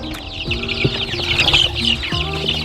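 Two-week-old Black Axolotl chicks peep and cluck close by, a steady overlapping chorus of short high calls with no talking.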